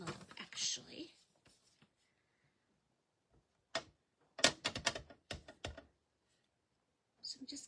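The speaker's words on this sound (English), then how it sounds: "I'll stamp on my envelope, actually." A rubber stamp is pressed and tapped onto an envelope, giving several short close knocks and rustles in a small cluster, with brief handling noises around them and no talking.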